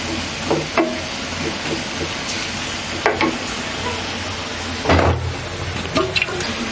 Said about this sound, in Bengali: পেঁয়াজটাকে ভেজে ফেলতে হবে।